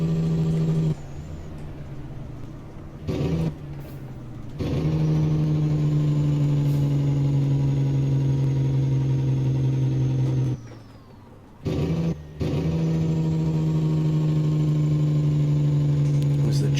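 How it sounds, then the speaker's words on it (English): A DD60 truck engine in American Truck Simulator runs its Jake brake, a loud, sustained, buzzy rumble that holds steady for long stretches and cuts out briefly a few times. "Jake from that DD60,"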